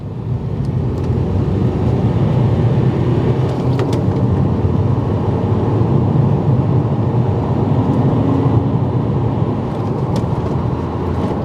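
A Honda Accord Euro, a diesel and a petrol car side by side in an acceleration race, heard from inside as a steady loud engine drone with road and wind roar.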